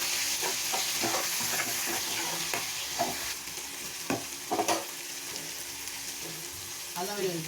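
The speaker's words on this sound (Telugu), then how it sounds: "2 టమాటాలు, కొద్దిగా పుదీనా, కొద్దిగా కొత్తిమీర వేసి బాగా కలుపుకోవాలి." Tomatoes, mint and coriander sizzle in a hot pan under steady frying hiss, with a spoon stirring in repeated scraping strokes, up close and fairly loud.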